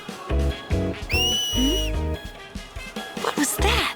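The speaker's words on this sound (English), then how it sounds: "Tidus teaches her how to whistle, or at least attempts to" Finger whistling in the video game Final Fantasy X: short whistle attempts, then a long, clear, high whistle, followed by brief rising and falling whistled notes over game music and sounds, with a voice briefly heard.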